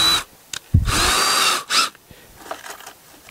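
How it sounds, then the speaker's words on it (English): A power drill drives a 1-inch self-tapping screw through a metal strap and conduit into wood for a raised-bed hoop cover, whirring in two close bursts, the first about a second long, then a brief second spin. "one of these 1-inch self-tapping screws, go through the strap, through both ends of the conduit, and into the wood"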